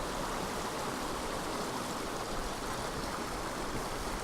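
A waterfall pours steadily, a continuous, even broadband rush of falling water heard up close with no pauses or other sounds.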